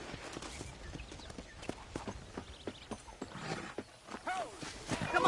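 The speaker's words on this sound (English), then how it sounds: "let's see if you can still ride a horse" Horse hooves clip-clopping at a steady walking rhythm while riding in a ranch video game, close and moderately loud, with game sounds around.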